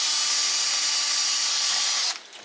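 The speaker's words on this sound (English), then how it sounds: "take these plugs that are for the bins, and for the top row, just going to drill a hole through" A power drill bores a hole through a plastic bin plug, a loud steady high-pitched whine running continuously for about two seconds before cutting off abruptly.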